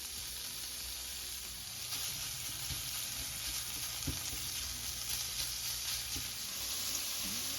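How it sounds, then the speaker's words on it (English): Bacon renders in a pan on medium-high heat, giving a steady, close sizzle and crackle that runs throughout with occasional louder pops and no talking. "Just going to be rendering this bacon down to get the fats and make some nice crispy bacon"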